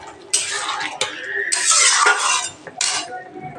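Potato pieces frying in a pan for aloo posto, stirred with a metal utensil in loud, close bursts of scraping and clinking over a faint sizzle; no talk.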